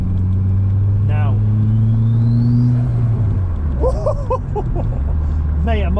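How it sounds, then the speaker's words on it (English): Renault 21 Turbo from the 1980s accelerating hard, a loud, steady engine drone that rises in pitch over a few seconds and then settles lower, with a faint turbo whine and someone talking over it. "That turbo noise"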